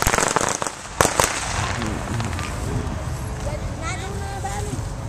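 Several sharp firework bangs go off early in Sioux City, Iowa, followed by distant crackling as people talk over the background noise.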